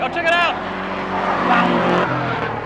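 Engine revs and rising, wavering drone from a car drifting at a night drift event on a desert track in Arizona, with a person talking briefly over the loud engine noise.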